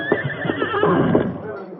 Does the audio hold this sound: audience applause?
no